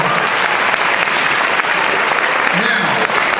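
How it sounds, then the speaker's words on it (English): An audience at a science and technology fair opening ceremony claps for elementary school students, a loud, continuous wash of applause with a voice briefly audible beneath it. "a round of applause."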